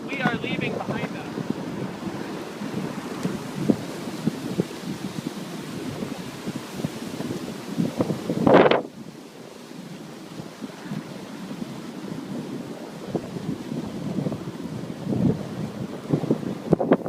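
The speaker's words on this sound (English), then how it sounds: "this wind is so insane" Strong wind roars and buffets the microphone on a beach path while skateboarding between Huntington Beach and Newport, with a steady loud rush, gusting peaks and one brief sharp burst midway.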